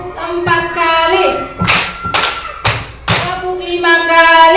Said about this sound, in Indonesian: Tepuk 1 kali, tepuk 2 kali, tepuk 3 kali, tepuk 4 kali,